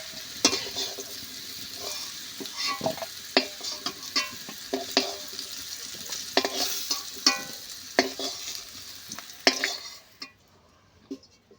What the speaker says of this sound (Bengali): আলুটা আমার বেশ ভালো করে ভাজা হয়ে গেছে